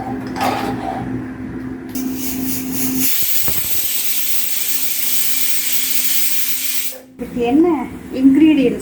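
A steady, loud hiss of steam venting from a pressure cooker whistle for several seconds, cutting off abruptly, with a low hum underneath and voices around it.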